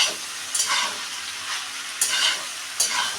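A spatula stirs fried rice made from minicket rice in a frying pan. A soft, even sizzle runs throughout, broken by three sharper scraping strokes, with no voices.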